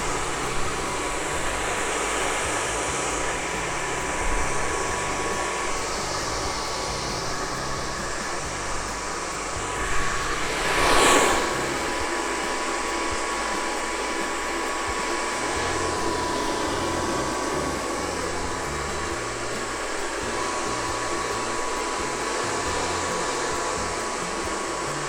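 Hair dryer blowing steadily through a men's short haircut, a continuous near airy whoosh held for the whole stretch with a brief louder burst midway.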